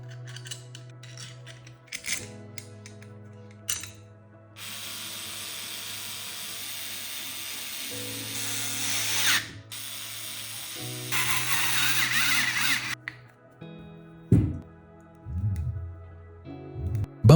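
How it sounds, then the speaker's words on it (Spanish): Bolts being driven on the top cover of an alternator assembly, with bursts of whirring power-tool or ratcheting noise between short pauses, close and moderately loud, with no speech. "Y unimos todo el conjunto con sus pernos."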